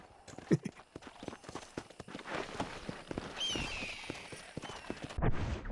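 Steady clip-clop of hooves as a horse walks along at an even pace in the video game Red Dead Redemption, with faint ambient sounds beneath.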